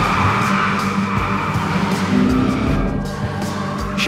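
A Ford Focus Fastback drives hard with its tires squealing, a loud, sustained skid over the engine that runs without a break from start to finish, close and with no talk over it.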